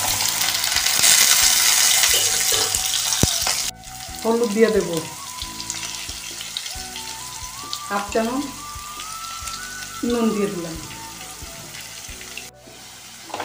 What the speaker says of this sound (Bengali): এবার আমি ওই তেলেই আলুটা ভেজে নেব